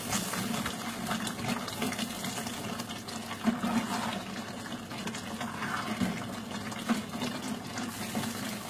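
Water is poured into a simmering pot of carne guisada, a steady close gush and trickle lasting several seconds with small splashes, no talking.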